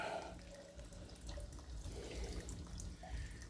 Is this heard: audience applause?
no